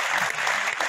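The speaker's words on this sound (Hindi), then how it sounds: "ये ताली बजानी है तो दोनों हाथों से, दिल से, आत्मा से एकदम बिना शर्म के" Audience applause at a public speech event in India, dense steady clapping from a crowd, close and fairly loud for under a second with no talking.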